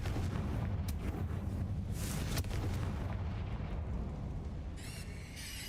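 Confringo fire spell explosions in Hogwarts Legacy rumble as a dense, roaring blast with crackling bursts, loud and continuous, ending with a brief high shimmering magical chime.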